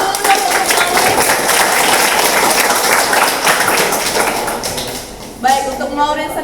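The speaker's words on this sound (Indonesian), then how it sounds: "Tepuk tangan dulu dong untuk Maureen." A school debate audience applauds a student speaker, a dense wash of clapping that thins out toward the end, followed by a voice starting to speak.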